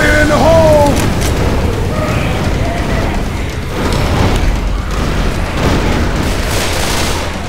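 A pipe-bomb or grenade explosion in Left 4 Dead 2, a loud boomy rumble with scattered crackling and gunfire amid chaotic game action.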